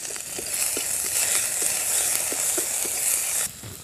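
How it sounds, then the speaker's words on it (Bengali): Garlic paste hits hot oil in a wok and gives a loud, steady hiss for a few seconds, with soft stirring taps under it, then drops away sharply near the end. "কড়াই দিয়ে দিচ্ছি একটু তেল। রসুন বাটাটা দিয়ে দিলাম"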